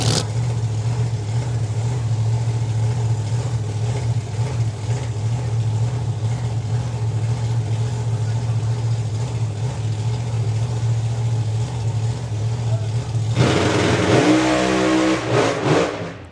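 Pro Mod drag racing car at the FIA/FIM Euro Finals, a loud rumbling idle held steadily for a long stretch before a sudden violent launch bursts into a fierce roar.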